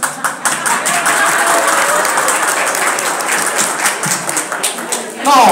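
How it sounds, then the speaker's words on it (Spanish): Loud, dense audience applause fills the room continuously, with many hands clapping at once and a few sharper claps standing out near the end. "también pueden aplaudir"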